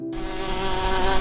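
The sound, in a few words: wasp buzzing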